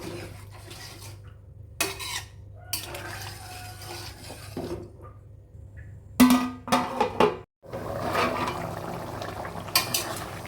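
A spoon clinks and scrapes against a pot of simmering fish and bottle gourd curry, with close, irregular metallic knocks and rattles over a low kitchen hum.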